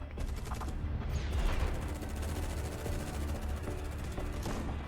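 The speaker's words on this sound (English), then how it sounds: "There was a sniper team fire." Sniper team gunfire in the video game Eximius: dense, steady volleys of shots with a loud burst near the middle, continuous rattling fire running through the whole stretch with no talking.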